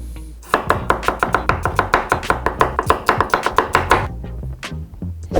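An onion being chopped on a board with a knife, rapid loud evenly spaced chops in a steady run that slows and breaks up near the end.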